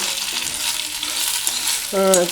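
Kozhukattai dumplings are stirred in a hot pan with onion, curry leaves and dried chillies, giving soft scraping and a light sizzle, with a brief tonal scrape near the end.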